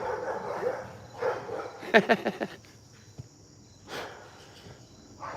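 A neighbor's dog lets out a quick burst of sharp barks in the middle, moderately near, with a single bark later, among outdoor rustle and faint insect chirping.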